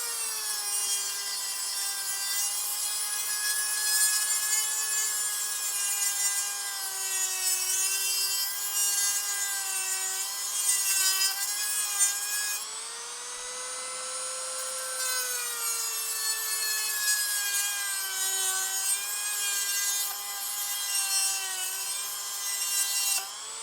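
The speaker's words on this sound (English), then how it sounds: "I've never cut aluminum with a Dremel. I guess it's a cutoff wheel." A Dremel cutoff wheel cuts through aluminum for a crossbow build, giving a loud, sustained high whine with a steady pitch that dips briefly partway through before resuming, heard alone without talk.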